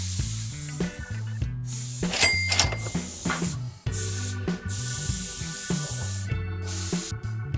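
Spray gun laying black primer onto a Fender Stratocaster kit guitar body inside a paint booth, a steady close hiss running almost without pause under background music.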